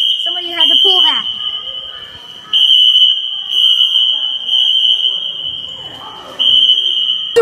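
Building fire alarm going off, a piercing high electronic tone sounding loud and continuously with brief gaps, while people talk and move around nearby.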